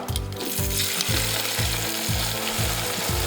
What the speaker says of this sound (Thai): ตอนนี้น้ำมันยังร้อนอยู่ก็มาทอดปลากันได้เลยครับ